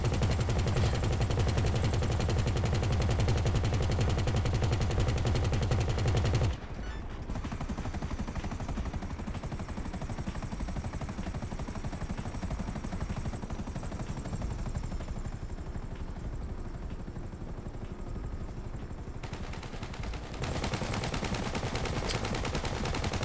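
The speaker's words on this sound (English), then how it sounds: "This guy's firing at mountains." A non-player character in GTA 5 fires a gun in rapid bursts of shots, and a steady helicopter-like drone runs underneath. The mix stays dense and fairly loud, and no one speaks.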